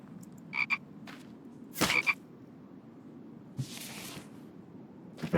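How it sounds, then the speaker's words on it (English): Frog croaking in the survival video game The Infected, a few short separate croaks spaced seconds apart against a steady low outdoor ambience, no talking. "let's get this frog"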